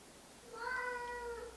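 A house cat gives a single drawn-out, tonal meow about a second long, clear and close against a quiet, slightly noisy room.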